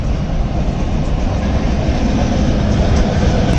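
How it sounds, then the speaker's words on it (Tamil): Train passing over a railway level crossing, loud and close, with a continuous heavy rumble and rolling wagon clatter. "ட்ரெயின் தான் கிராஸ் ஆகுது"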